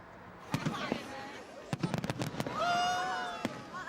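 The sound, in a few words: fireworks display at Alexandra Palace, London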